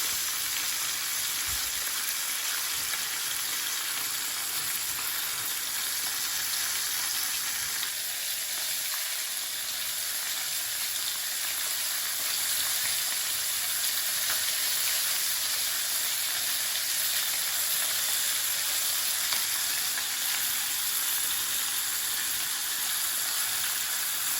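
Flour-and-starch-coated local fish frying in hot oil, a steady dense sizzle and hiss that runs continuously without break, close and even in loudness throughout.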